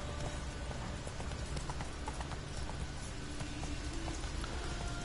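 Horse hooves galloping in Witcher 3, a steady, fairly faint clip-clop of hoofbeats running under a wash of ambient game noise that resembles rain, with no speech.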